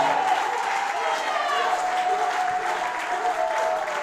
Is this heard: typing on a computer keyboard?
no